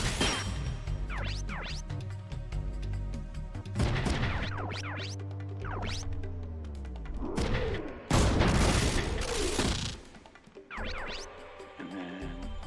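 Heavy mech gunfire in Front Mission 3 lands on an enemy with a string of loud booms and metallic crashes, several sharp impacts spread across the stretch, set against game music.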